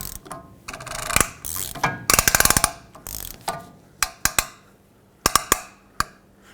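Rear outer wheel hub of a 2008–2010 Ford F-250 pickup spun on its newly fitted bearing, giving loud, close metallic ratcheting clicks in irregular bursts with short pauses between spins.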